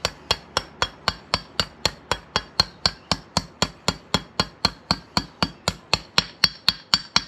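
A hammer taps a bearing into place in sharp metallic strikes about three per second. The blows are close, even and steady, with no talking.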